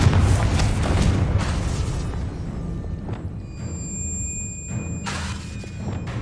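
The Confringo fire spell bursting in the video game Hogwarts Legacy, deep booming blasts with rumbling thuds, a loud explosion at the start fading into low rumble, then a sharper burst near the end.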